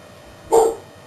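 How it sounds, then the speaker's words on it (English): A dog gives a single short bark, fairly close and loud against a quiet dark background, at night during fireworks. "excuse my dog barking if you can hear that."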